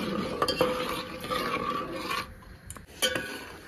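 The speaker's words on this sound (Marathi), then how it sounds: "तर ह्या पाण्याला छान अशी उकळी आलेली आहे" A pot of water with a spoon of oil and papad khar boils for rice palak papad, giving a steady bubbling hiss broken by spoon stirring and scraping against the pot.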